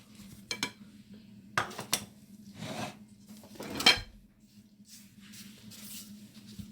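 Ingredients for moli paratha are mixed with flour in a bowl, giving a few scattered clinks, scrapes and stirring sounds, close up and fairly quiet, with no talk.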